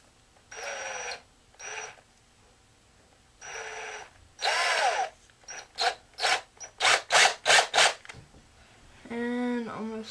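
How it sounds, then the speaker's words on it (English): A drill works slowly on a broken RC car part in short separate bursts, then in quicker repeated pulses, quiet and close, with a brief voice near the end. "Almost drill it in this side. very slowly."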